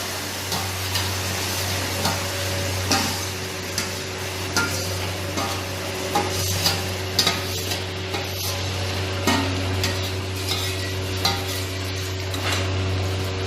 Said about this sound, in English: And I'm gonna give it a proper stir